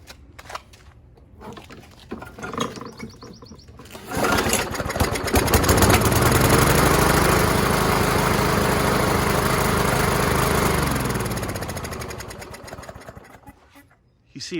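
A 2011 Craftsman Silver Series lawn mower engine with a dirty carburetor starts up, runs loudly and roughly with sputtering for several seconds, then winds down and cuts out, with quiet tinkering before and after.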